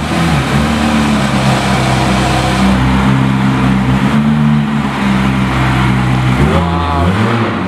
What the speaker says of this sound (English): Oh, the exhaust.